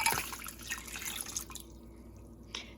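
Ice water poured over salted vegetables for a cucumber relish brine, a short splashing, dripping pour that fades after a second and a half with a faint splash near the end.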